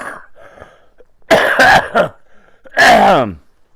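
A man coughs several times in quick bursts, close and loud, with a pause before a final heavy cough and throat-clearing sounds in between.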